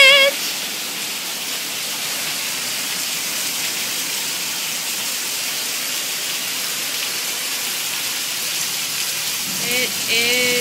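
Rainwater from a thunderstorm gushing and leaking out of a house gutter, a loud, steady rushing splash that fills the whole stretch without letting up.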